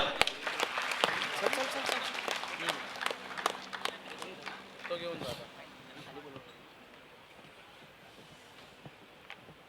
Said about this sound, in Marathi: एकदा जोरदार टाळ्या जाऊ द्या